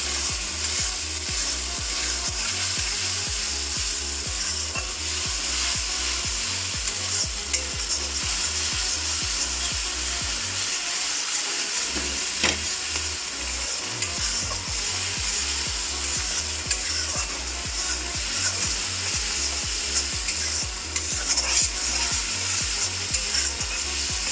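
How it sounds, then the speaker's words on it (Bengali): Mutton being stir-fried with turmeric powder for kosha gives a constant loud sizzle, while a spatula scrapes and rubs against the pan in a fast, rhythmic back-and-forth that continues nearly without pause. "হলুদ গুঁড়ো, দিয়ে ভালো করে কষাতে নেব।"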